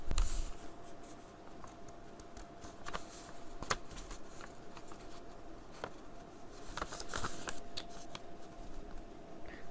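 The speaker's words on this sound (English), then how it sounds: "Now we're going to fold it in half" Sheet of paper being folded in half by hand, soft crinkling and sliding rustles with a few sharper creasing scrapes, close and quiet, no talk.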